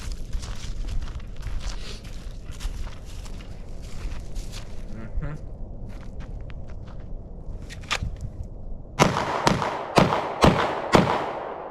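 Gunshots from an Echelon 4.0C pistol crack across an outdoor range, first in a scattered mix of distant fire, then as a rapid close string of five loud reports dumping a magazine at a steel target.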